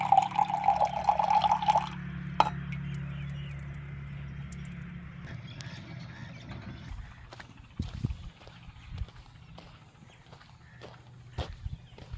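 Tap water runs into a drinking glass for about two seconds with a steady rushing pour, then trails off into scattered drips and small clinks.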